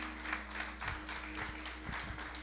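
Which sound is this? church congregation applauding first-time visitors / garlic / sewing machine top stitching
church congregation applauding first-time visitors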